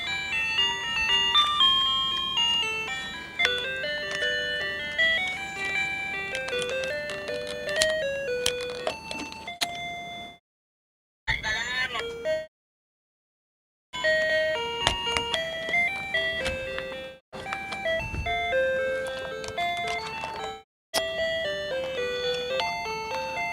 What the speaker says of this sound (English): This is some bell which is kept over here, and I don't know how it started functioning.